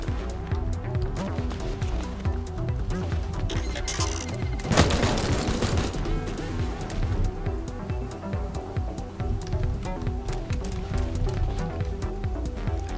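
Laser gunfire erupts in a robot shooting video game as dense, rapid bursts over busy game sounds, with one louder volley near the middle.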